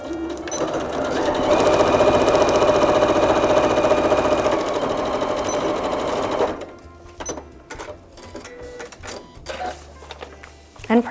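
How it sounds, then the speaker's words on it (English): A sewing machine stitches fabric pieces together for paper piecing, a loud close whir running for about six seconds before stopping, followed by clicks and fabric handling. "So fold, cut, add fabrics with right sides together, and sew."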